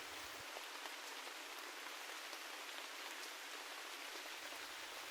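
Steady rain falls on the leaves of trees and on flowers, an even, continuous patter that holds at the same level throughout with no voices.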